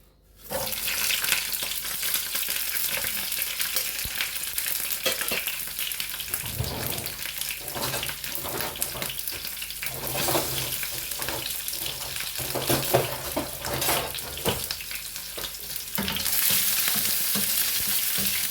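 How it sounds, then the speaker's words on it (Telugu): Ingredients fry in hot sunflower oil for a North Indian-style paneer curry, a dense continuous sizzle with repeated scraping and stirring strokes of a ladle against the pan, close and loud throughout. "ఇది ఆయిల్, సన్ఫ్లవర్ ఆయిల్. చూడండి, నూనె కాగింది బాగా. ఇవి వేస్తున్నానండి ఇన్ని."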